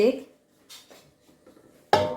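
A cooking pot being lifted and moved while steaming food for a cabbage curry, heard as a couple of short metallic clanks and scrapes, the last one sharp and close, with a voice talking around them.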